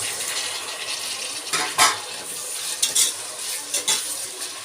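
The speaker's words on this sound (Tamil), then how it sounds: "நல்லா வதங்கி வரட்டுங்க. அடுத்தது நம்ம தக்காளி போட்டுக்கலாம்." Tomatoes sautéing in a pan for chicken biryani, with a steady close sizzle and a few louder stirring scrapes and clinks of a utensil against the pan.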